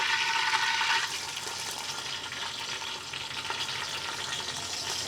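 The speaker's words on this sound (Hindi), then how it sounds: "यहाँ पर 2 मीडियम साइज़ की प्याज है बारीक कटी हुई, इसे हमें सुनहरी होने तक फ्राई कर लेना है।" Two medium onions, finely chopped, frying in hot oil in a pan with fried curry leaves for a mutton sola dish, giving a steady loud close sizzle that is strongest at the start, with no speech.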